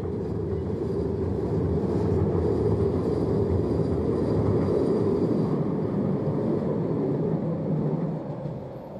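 Vienna U4 and U6 metro trains pass together in a broad, steady rumble that stays loud and close throughout, then eases off near the end.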